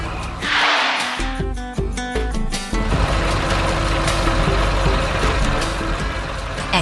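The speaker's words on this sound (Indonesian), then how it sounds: "Truk hijau dan biru itu datang membawa beban berat." Animated green and blue construction trucks arrive with heavy loads at a flooded city street site: loud engine rumble with a short series of rhythmic beeps early, then a steady heavy drone.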